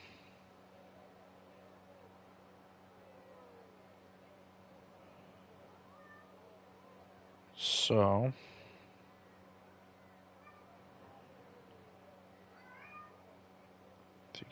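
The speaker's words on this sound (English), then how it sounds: "if you can hear my cat meowing" A pet cat meows once, close and loud, a short bright cry that stands out against a quiet room with some talk around it.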